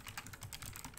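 Quick, even keystrokes on a computer keyboard clatter in a steady stream of soft clicks for about a second, close and alone with no voice over them.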